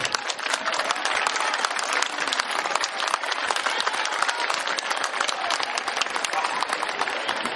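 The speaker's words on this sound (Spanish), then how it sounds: "o Tábara, presidente del Consejo por la Paz, para quien pedimos un fuerte y cariñoso aplauso." Sustained applause from a large audience at a peace event, dense rapid clapping holding steady and loud throughout.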